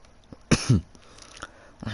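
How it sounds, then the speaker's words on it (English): A person gives two quick, close coughs in a row, followed by softer breathy throat sounds. "don't mind if I cough a bunch of times"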